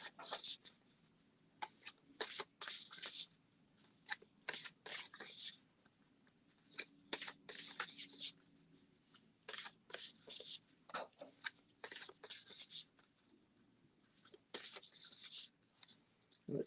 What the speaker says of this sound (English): I will just randomly pick up a deck and shuffle.